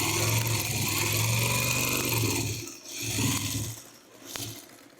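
A sewing machine stitching cotton quilt block fabric, a close steady motor hum with rapid needle chatter that slows and pauses twice, then briefly restarts.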